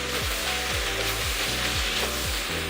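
Red chili powder, pav bhaji masala and coriander-cumin powder are stirred in a pan for pav bhaji, with steady, rhythmic scraping strokes about every half second over a continuous soft sizzle.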